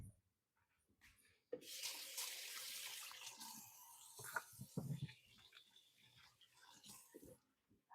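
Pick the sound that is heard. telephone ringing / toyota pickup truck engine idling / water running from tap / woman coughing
water running from tap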